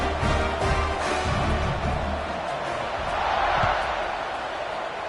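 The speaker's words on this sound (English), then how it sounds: "this crowd is buzzing after that last score" A stadium crowd buzzes in the College Football 26 video game on PS5 after a score, a steady broad roar of many voices with some swelling, fairly loud, under commentary.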